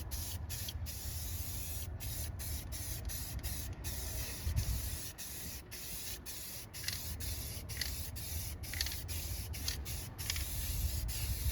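Spray coating is applied to a metal arcade control panel as a continuous close hiss, broken by repeated short pauses as the nozzle is released and pressed again.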